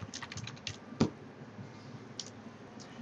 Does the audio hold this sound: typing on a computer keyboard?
yes